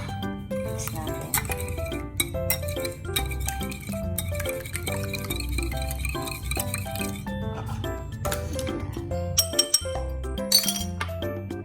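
Three eggs are mixed in a bowl for low-carb puto. A utensil clinks and taps quickly and repeatedly against the bowl, close and bright, over a steady background of music-like tones.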